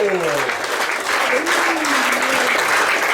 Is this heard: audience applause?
yes